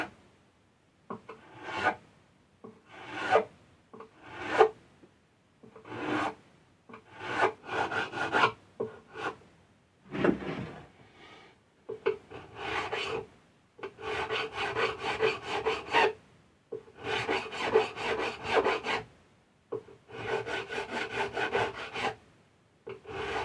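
Hand file crowning the guitar frets on an Aria AW20, a series of close rasping strokes in repeated bursts with short pauses between, steady rhythm and no talk.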